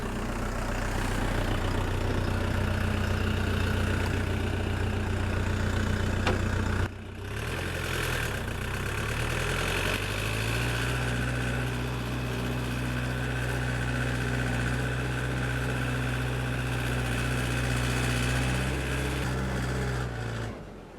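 A Dongfeng 404 tractor engine runs steadily while disking a field, a loud continuous diesel drone with a brief drop near seven seconds before the engine note settles into a lower, even hum.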